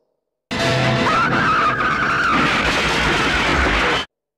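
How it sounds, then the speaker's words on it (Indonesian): A car skids with a loud, sustained tire squeal lasting several seconds before crashing into a vegetable cart, the noise starting and stopping abruptly, close and alone without talk. "membuat mobilnya menabrak gerobak sayur"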